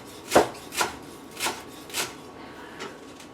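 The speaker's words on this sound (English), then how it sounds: "you want to practice good knife safety when you are cutting." Onions being chopped with a knife on a board while making seafood stew: five or six distinct, evenly spaced chops close by, tapering off slightly, with no talk.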